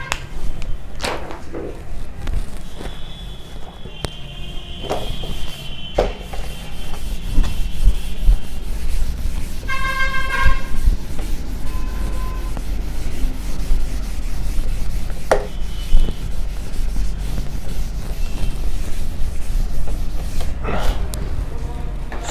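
Repeated rubbing of an eraser or duster wiping a classroom board, a dry scraping friction sound in bursts over a steady low background hum, with a teacher speaking intermittently around it.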